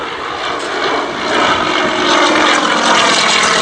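Light aircraft flying an inverted pass at an East Kirkby airshow in Lincolnshire, a loud continuous propeller engine drone that swells slightly as it passes close, with no talk over it.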